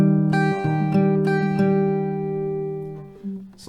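An acoustic guitar picks C-based notes: several plucked notes ring over a sustained low tone, close and clear, then decay to a final soft pluck.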